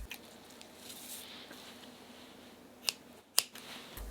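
Scissors snip culinary thread tied around homemade sausage: two quiet, sharp clicks near the end, after a faint, steady background hum.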